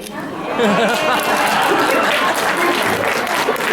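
An audience at a Tamil poetry recital in Albany, New York claps in a sustained burst of applause after a quiet start, with a few voices murmuring underneath.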